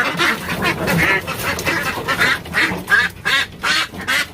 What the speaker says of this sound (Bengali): আমি আপনাদেরকে দেখাই যে এখানে আমাদের দেশি হাঁসগুলো আছে